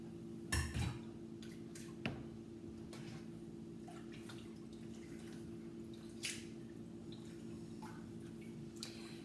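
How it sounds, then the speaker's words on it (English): Cooked sweet potatoes are poured into a pot of cold water in a home kitchen, giving a quiet wash of trickling and dripping water with a couple of brief louder splashes. "I'm just going to pour the rest of those potatoes into the cold water to get them to stop cooking"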